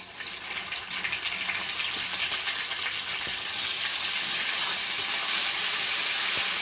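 Cumin, ginger paste and bay leaf sizzle in hot oil in a pan, giving a steady, fairly quiet hiss with faint crackles and no talking.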